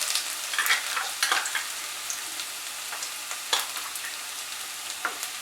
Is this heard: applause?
no